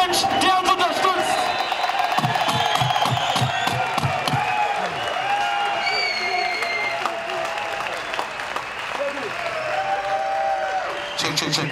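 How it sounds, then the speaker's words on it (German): An event audience gives a dense, sustained round of applause with some cheering as former footballer Thomas Berthold is welcomed, and voices carry on throughout. "großen Applaus möchte man empfangen werden"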